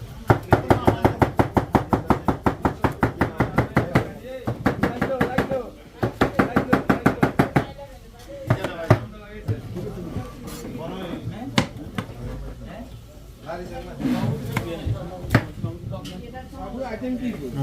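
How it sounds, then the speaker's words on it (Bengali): Knife chopping capsicum during large-batch iftar cooking: a fast, even run of sharp blade strikes on a board, pausing briefly and resuming, then sparser cuts mixed with kitchen clatter and people talking. "এই যে ক্যাপসিকাম কাটা হচ্ছে।"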